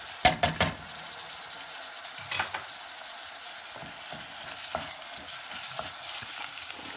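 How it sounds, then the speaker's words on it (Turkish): Minced meat fries in a pan with a spoonful each of tomato paste and pepper paste for a cabbage kapuska stew. A few sharp utensil clinks open, then a soft, steady sizzle runs on with occasional light stirring scrapes. "Salçamız da kavruldu."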